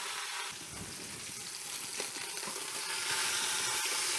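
Pot roast meat browning in a pot, with a steady, close sizzle and hiss that grows a little louder toward the end, heard alone without talk.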